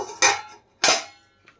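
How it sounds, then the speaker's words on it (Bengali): A lid comes off a container of resting maida dough for bhature with two clear clattering knocks close by, then a faint tap. "এখন আমি ঢাকনা খুলে দেখে নেব"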